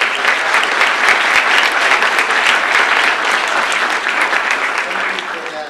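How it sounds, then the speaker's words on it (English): An audience at a college lecture series event applauds the faculty, a dense, sustained round of clapping from many hands, loud and even throughout before slowly easing off at the end. "So I think we owe a round of applause to the faculty."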